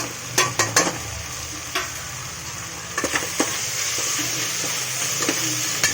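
Biryani masala frying in a pan, a steady sizzle punctuated by repeated sharp ladle clacks and scrapes against the metal, loud and close.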